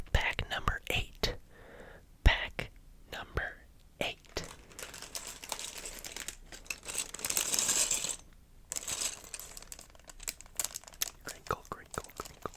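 A plastic LEGO parts bag for a Millennium Falcon build crinkles and crackles in close, irregular bursts, with soft whispering between them.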